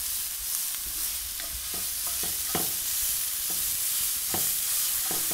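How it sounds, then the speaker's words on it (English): Shredded leeks sauté in a pan with a constant, dense hiss, while a utensil stirs through them in scattered soft clicks and scrapes. No voices are heard. "So sauté this and allow it to get that luscious green color."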